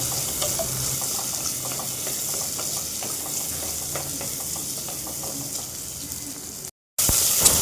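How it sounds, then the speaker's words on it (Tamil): Shallots fry in oil with cumin and pepper, giving a steady close sizzle with stirring scrapes, followed by a brief silence and a louder burst of hissing at the end. "200 கிராம் சின்ன வெங்காயம் சேர்த்துக்கலாம். இப்போ சின்ன வெங்காயம் பொன்னிறமாக வர்ற வரைக்கும் நல்லா வதக்கி விட்டுக்கலாம்."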